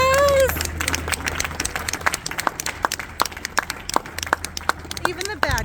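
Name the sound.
audience applause after shootout reenactment show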